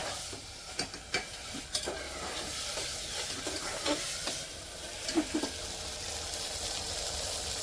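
Masala sizzles and fries in oil in a pan on the stove, a steady close hiss broken by occasional stirring scrapes and clinks.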